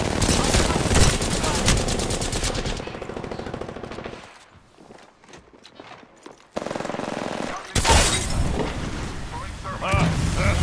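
Gunfire in Apex Legends plays as loud rapid automatic bursts at close range, stops for a quieter stretch with softer scattered shots, then resumes in heavy bursts. No one speaks.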